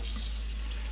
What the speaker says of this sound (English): we want to rinse it in a sink that has been sanitized under cold water